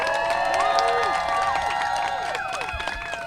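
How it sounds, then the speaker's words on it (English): Crowd at an outdoor march for healthy school food in Brooklyn, New York, cheering and clapping steadily, with whistles and shouts over a continuous loud wash of noise. "So give yourselves a round of applause."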